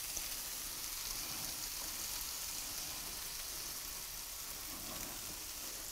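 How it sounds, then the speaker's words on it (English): Garlic sizzles in a hot pan while Greek lemon chicken is being cooked, making a steady, even hiss of frying that holds at the same level throughout without a break. "Hear that sizzle?"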